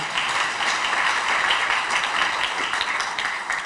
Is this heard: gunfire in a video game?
no